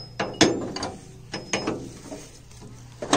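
A chain mechanism on a John Deere 5310 tractor-mounted corn harvester gives a series of loud, close metallic clacks and ratcheting clicks at irregular intervals, with no talk.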